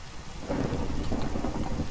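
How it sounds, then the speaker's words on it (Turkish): A thunderstorm with lightning in the video game Minecraft: steady, heavy rain and rumbling thunder fill the scene, growing denser and louder after the first half second, with no voices. "Tövbe tövbe durmadan şimşekler çakmaya başladı"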